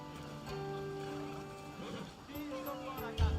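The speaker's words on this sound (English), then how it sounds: "That's a nice horse, Socrates. It's a very nice horse. A sturdy horse." Horse hooves clip-clop steadily in Assassin's Creed Odyssey, a sturdy horse's footfalls mixed with game sounds, a faint whinny and a voice talking over them.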